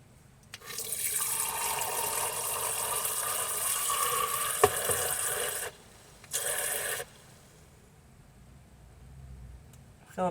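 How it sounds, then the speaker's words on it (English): Tap water runs steadily into a cup during van-life camping near Port Angeles and Olympic National Park, a close, loud splashing stream for about five seconds, then a shorter second burst before it stops. "Fill up a cup of water first"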